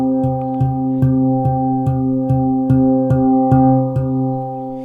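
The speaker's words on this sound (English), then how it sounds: "it causes the octave and the fifth to ring out" Handpan with its central ding struck repeatedly in a steady pulse, each hit blooming into sustained ringing overtones of an octave and fifth, close and loud with no talking.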